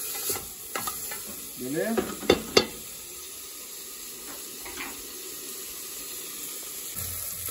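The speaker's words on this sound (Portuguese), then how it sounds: "Aqui já tô fritando a carne seca para colocar o feijão." Carne seca (dried beef) sizzles steadily in a hot pan, with a few utensil scrapes and clinks early on and a brief spoken word over the frying.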